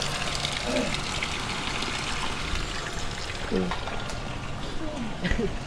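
Water gushes out in a steady, loud rushing flow, with a few voices speaking briefly over it.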